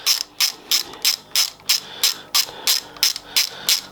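A hand ratchet turning bolts on a mountain bike drivetrain, about a dozen crisp, evenly spaced clicking strokes, close and clear with no talk over them.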